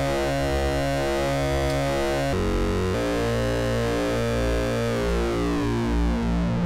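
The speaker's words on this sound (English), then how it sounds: "if you plug in a control voltage to the control voltage input, you can get thick pulse width type sounds" A Blind Monk Modular Harmonic Multiplier puts out a thick, buzzy pulse-width synth tone with a control voltage plugged into its input, sustained and loud, its pitch stepping through a few notes with a brief change partway, alone with no talk.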